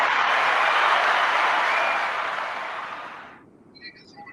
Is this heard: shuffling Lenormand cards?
no